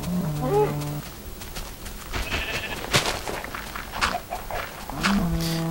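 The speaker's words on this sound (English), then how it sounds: "Tiny cow is tiny." A Minecraft cow moos in low drawn-out calls, one at the start and another at the end, with scattered game noises and faint activity between them.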